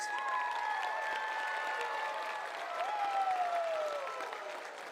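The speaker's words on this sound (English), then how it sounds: "give them a loud round of applause" Graduates at a 2021 high school graduation ceremony applaud their parents, a soft, distant crowd clapping heard beneath sustained sliding electronic tones.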